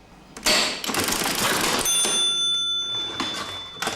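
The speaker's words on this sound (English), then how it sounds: "The proprietor used the cash register to raise the alarm." A shop cash register rings loudly as a proprietor's alarm signal, giving a clattering mechanical burst followed by sustained bell-like ringing tones that fade over several seconds, with no voices.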